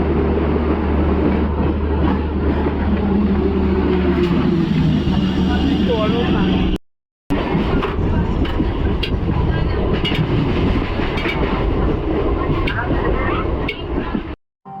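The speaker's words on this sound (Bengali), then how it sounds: "ট্রেন চলে এসেছে, এবার ট্রেনে আমরা উঠে পড়বো" A train arriving at a station makes a loud, sustained rumble and roar close by, with voices in the crowd underneath and a brief break partway through.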